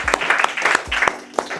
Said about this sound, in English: I think you should clap for your own self